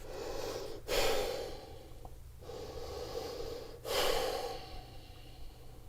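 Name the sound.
exhaling breath during yoga forward fold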